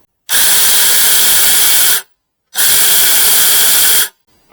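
A SEYVUM 6-inch 20V mini cordless chainsaw whines loudly in two even bursts of nearly two seconds each, separated by a short silence, close up and alone.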